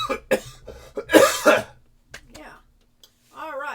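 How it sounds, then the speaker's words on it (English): One person gives several hard, close coughs in a quick cluster, followed by a short pause and then a brief stretch of speech. "Another cough that I've had for 2 months."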